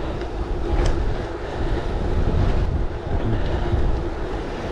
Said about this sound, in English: Really windy today.